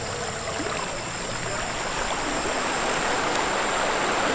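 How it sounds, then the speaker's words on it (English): A river in Indonesia rushes over rocks in a steady, full, close hiss of flowing water that holds unchanged throughout, with no voices. "And probably I can even take a bath in this river."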